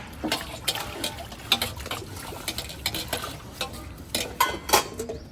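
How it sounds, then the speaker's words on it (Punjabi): Dishes are washed by hand with water outdoors in the sun, bright clinks and scrapes of utensils coming in irregular bursts at close range over a soft background wash. "ਲੈ ਕੁੜੇ ਧੁੱਪ ਚ ਕਿਉਂ ਲੱਗੀਆਂ ਭਾਂਡੇ ਮਾਂਜਣ"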